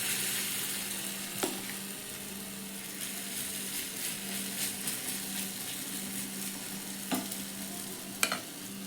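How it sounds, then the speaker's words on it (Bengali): Semolina batter poured into an oiled pan sizzles loudly and steadily as it fries, with a few sharp clicks from the ladle against the pan. "এখন আমি দিয়ে দেব যে টিফিনের জন্য ব্যাটার তৈরি করে রেখেছিলাম"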